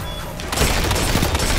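Outbreak Perfected pulse rifle firing in the Destiny 2 video game, a dense burst of loud punchy shots that kicks in suddenly and rattles on to the end, close and upfront.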